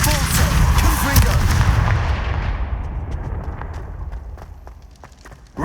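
A Confringo blast spell in the video game Hogwarts Legacy lands as a loud, booming explosion. Its rumble rolls on and slowly fades over several seconds, and a faint thud comes near the end.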